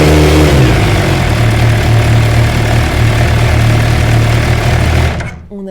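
An MV Agusta Brutale 1000RR motorcycle, fitted with a transparent CNC Racing clutch cover, idles steadily and loudly up close with a rough, throbbing mechanical beat, then cuts off abruptly near the end.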